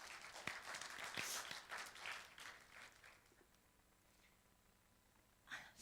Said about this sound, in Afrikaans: Ons klap vir hulle lekker hande.